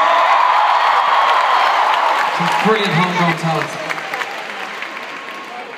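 A concert crowd at a Singapore show applauds and cheers for the support acts, loud sustained clapping and whoops that gradually ease while someone talks over them.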